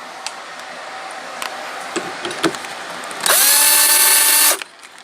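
A power drill drives simple wood screws into a wooden tool jig, with light handling knocks first and then one loud close whining burst of over a second that winds up and cuts off.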